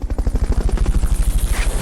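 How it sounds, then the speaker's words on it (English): Helicopter in Metal Gear Solid: Peace Walker during a Fulton recovery, its rotor chopping in a steady, loud, rapid rhythm with no talk over it. "Fulton recovery helicopter is complete."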